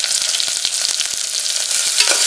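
Onion, green chili, garlic, curry leaves and dried red chili sautéing in a hot pan for arisi paruppu sadham, a loud, steady close-up sizzle broken by quick stirring scrapes, with no voices.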